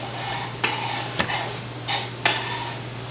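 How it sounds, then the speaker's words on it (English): Shallots sizzling in a hot pan, a constant frying hiss broken by several clinks and scrapes of a utensil stirring them, close and fairly loud with no talking. "I want to add in my shallots"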